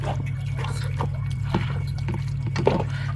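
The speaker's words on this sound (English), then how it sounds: "So we're gonna add a little bit of water to the jar." Water is poured into a sauce jar in a home kitchen, a soft liquid splash and trickle over a steady low hum, with a few small clinks near the end.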